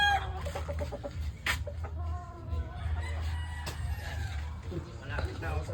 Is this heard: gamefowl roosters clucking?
yes